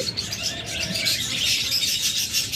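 Pet lovebirds and cockatiels chirping nearby in a steady, busy chorus of high tweets, with no talk over them.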